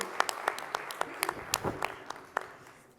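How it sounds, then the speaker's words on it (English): Applause from a conference audience at a tourism industry event, a fairly soft round of clapping with scattered distinct claps standing out, fading over about three seconds. "A big round of applause to Ruben."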